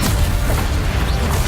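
Bombardo blasting spell going off in the Hogwarts Legacy video game, a deep booming rumble with a crashing edge, loud and continuous over busy game noise.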